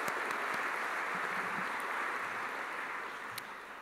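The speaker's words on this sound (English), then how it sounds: "Another round of applause for them, please." Sustained applause from a luncheon crowd at an Australia Day event in South Australia, a dense, steady wash of clapping that carries on evenly and tapers slightly toward the end.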